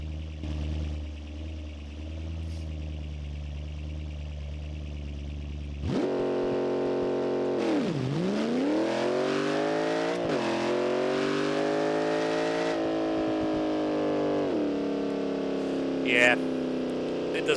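A car in BeamNG.Drive, a Notch Rocket drag build, idles low, then the clutch is dumped and the engine roars loudly, rpm dipping and climbing through strained, rising revs, with a voice speaking over it.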